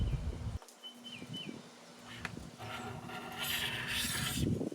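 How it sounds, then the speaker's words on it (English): A new hand scraper rasps old finish off a wooden table, a steady close scraping that swells louder toward the end, with no talk. "I bought a new scraper. Let's give it a try."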